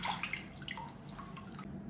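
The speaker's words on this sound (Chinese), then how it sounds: "再给它放在清水中， 给它清洗干净。" Green-top fruit radishes, their ends trimmed, are rinsed by hand in a basin of clean water, producing soft splashing and dripping close by.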